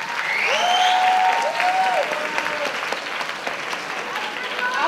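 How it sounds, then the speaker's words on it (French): An audience at a cosplay contest gives a burst of applause for the contestants, clapping loudly at first and then thinning, while whistling and voices come through over the clapping. "On les applaudit encore une fois."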